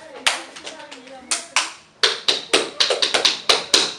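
A person claps their hands indoors among a group: a few spaced claps at first, then a quicker run of about a dozen loud, close claps, with faint children's voices underneath.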